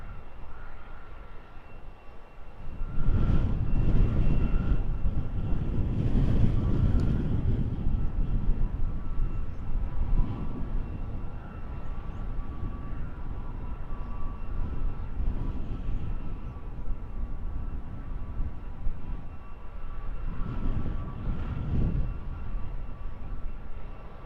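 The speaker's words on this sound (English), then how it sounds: "flight 1901 in from Vilnius, A321neo, Wizz Air, just appearing through the cloud to our left" A Wizz Air Airbus A321neo airliner on short final approach to land in a crosswind, a loud steady jet roar that swells in early, holds with a droning engine tone and rumbles on, no talking.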